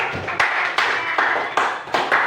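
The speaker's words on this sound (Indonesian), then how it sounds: "Tepuk tangan dulu." A classroom group claps hands in short, loud bursts, roughly four to five separate rounds of quick claps in close succession, with no talk.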